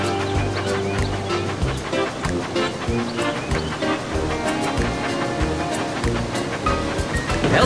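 Wild rushing water on a steep slide at Waterslide Mountain in the Thomas and Friends: Magical Tracks game, a loud continuous surging wash with splashes and layered game music, no pauses.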